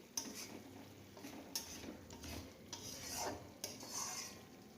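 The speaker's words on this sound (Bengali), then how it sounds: "আমি মশলাটা ভালো করে কষিয়ে নিচ্ছি।" Mustard-poppy spice paste for a Bengali puti fish curry being sautéed in a pan, with repeated scraping strokes of a spatula over a soft background sizzle, fairly quiet and steady.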